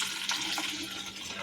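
Water pours steadily into a container during a resistor lab, a continuous broadband rush with no talk, holding fairly even throughout.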